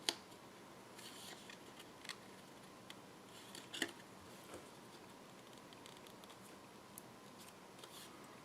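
Faint, close snips of scissors trimming excess paper from a gingerbread village craft, with light irregular clicks and rustles in a quiet room.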